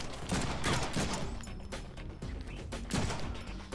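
Constant, dense gunfire in the Deadpool video game, with rapid shots layered over a loud, busy game mix and no pauses.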